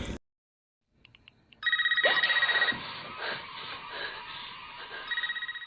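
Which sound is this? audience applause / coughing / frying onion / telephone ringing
telephone ringing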